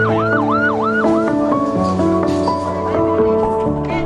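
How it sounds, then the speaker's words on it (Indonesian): An ambulance siren wails loud and close, rising and falling quickly, then settles into alternating steady tones over a constant vehicle rumble. "ambulans ini siap digunakan untuk menjemput di bandara ataupun"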